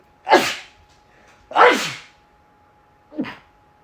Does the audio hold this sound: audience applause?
no